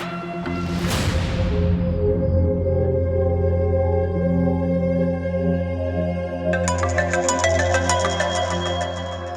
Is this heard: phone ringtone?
yes